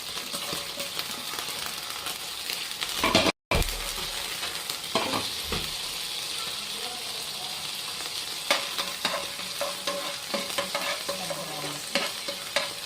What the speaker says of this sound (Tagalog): Magigisa na tayo. First, sibuyas.